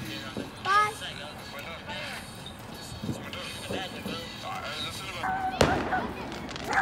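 Fireworks burst at a 4th of July celebration, with a few sharp booms and crackles rising over constant nearby chatter and exclamations from a family group outdoors.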